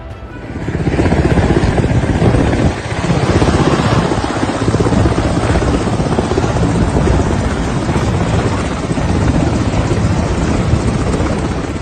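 A helicopter in Panjshir, Afghanistan, roars loud and close with a continuous thudding rotor wash and turbine whine that hold steady throughout.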